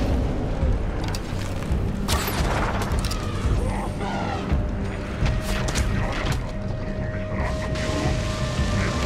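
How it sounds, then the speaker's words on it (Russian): An explosion in the video game Far Cry 4: a loud, rumbling blast rolls over a constant low game din, with scattered gunfire and mechanical clatter around it and voices talking faintly underneath. "А, вон что взорвалось"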